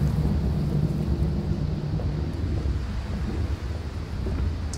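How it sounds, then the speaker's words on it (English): Wind howls through a dark setting in the video game Amnesia: A Machine For Pigs, a dense, rumbling gusty roar that runs continuously at moderate level with no speech. "It's windy."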